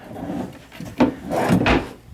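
Wooden drawers in a hotel room slid open and shut, giving two or three close, brief scraping rubs with a woody knock, alone with no talk.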